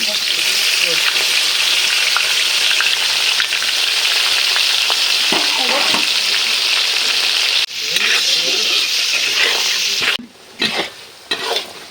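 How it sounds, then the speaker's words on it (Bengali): Chopped onions sizzle loudly in hot oil already holding bay leaves and whole garam masala, a dense continuous frying roar with stirring scrapes, briefly dipping twice near the end. "এবার কুচি করে রাখা পেঁয়াজগুলো আমি ছেড়ে দেবো।"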